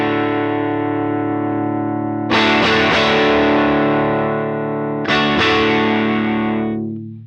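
An electric guitar played through a Strymon Iridium on its Fender Deluxe amp model, mids turned up and overdriving, sounds sustained distorted chords, with two fresh loud strums about three seconds apart ringing out and fading, no talk.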